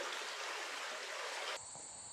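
A stream runs under a bridge on the Ice Age Trail, a steady close rush of flowing water that cuts off abruptly near the end, leaving a thinner, quieter background.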